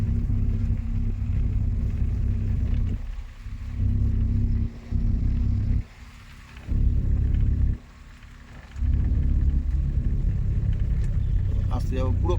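A car engine running during a driving lesson gives a low, steady droning rumble that briefly drops quieter several times and returns, heard from inside the car, with voices talking over it.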